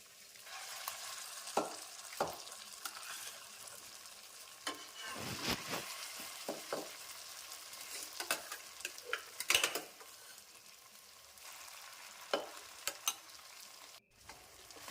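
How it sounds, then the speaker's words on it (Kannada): A rice and moong dal mixture for khara pongal is stirred in a pan, with a soft background sizzle and irregular scraping, clinking spoon-on-pan knocks scattered across the stretch. "ಈಗ ಇದಕ್ಕೆ ಮಾಡಿಕೊಂಡಿರೋ ಅನ್ನ ಹೆಸರುಬೇಳೆ ಮಿಶ್ರಣ ಹಾಕ್ಕೊಳ್ಳೋಣ."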